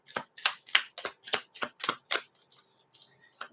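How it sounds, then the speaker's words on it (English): Tarot cards being shuffled: about eight quick riffling bursts in a steady rhythm, close and crisp, then trailing off into softer, scattered card sounds. "I am shuffling these cards"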